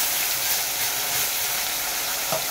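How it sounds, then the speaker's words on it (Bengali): Mustard paste sizzling as it hits frying onions in a pan, a steady dense hiss filling the whole short stretch at moderate loudness, with no voices. "আমি এই সর্ষে বাটাটা দিয়ে দিলাম"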